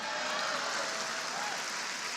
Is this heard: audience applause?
yes